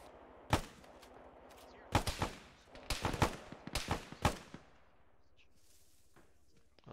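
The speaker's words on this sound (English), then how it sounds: "Oh, they're shooting back." Bursts of rifle and automatic gunfire in the military simulation game Arma with the ShackTac group, a single shot followed by several loud rapid volleys with echoing tails, then fading to quiet.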